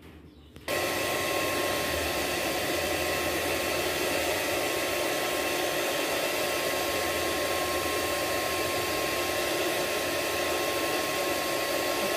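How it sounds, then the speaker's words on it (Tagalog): A hair dryer blows a baby dry after a bath, switching on abruptly and then running with a loud, steady, continuous airy roar close by with no break. "May blower. Blower."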